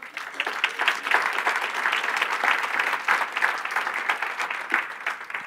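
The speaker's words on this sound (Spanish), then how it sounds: "Si aprendiste a dar un aplauso Señor." A church congregation applauds at a Spanish-language worship service, a steady dense wash of many hands clapping together throughout, fairly close and even in level.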